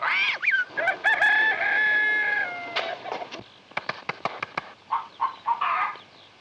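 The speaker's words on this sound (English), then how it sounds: "I'm going to tap every one of those hens till I find the one that lays the golden egg." Hens cluck and a rooster crows in a farmyard scene from the classic comedy film Jack and the Beanstalk; a long, drawn-out crow comes first, followed by a run of short, sharp clucks, with no talking.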